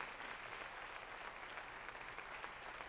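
Congregation applauding during a Pentecostal-style deliverance and miracles church service, a steady, fairly quiet wash of clapping with no pauses, distant-sounding, with no voices above it.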